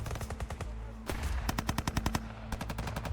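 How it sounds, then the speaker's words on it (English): Machine gun fire in a Vietnam War rubber tree plantation: sharp, loud bursts of rapid automatic shots broken by brief pauses, the rhythm stuttering between short and longer strings, close and without talk. "The first contact came quickly, machine gun fire cutting through the trees without warning"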